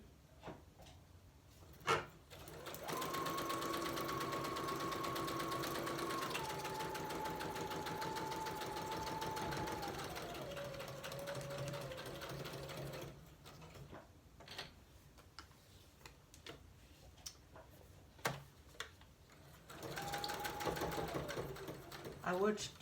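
Sewing machine threaded with black thread, stitching in long steady runs with a motor hum that shifts pitch, near and clear, separated by pauses filled with ticks, clicks and handling noises.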